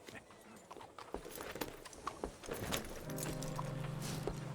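Horse hooves clip-clop in Red Dead Redemption 2, a steady walking rhythm of moderate loudness over a continuous low hum, with a faint jangle of tack.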